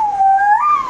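A voice gives a single sustained whistle-like call, steady then rising in pitch, imitating a cuckoo's call.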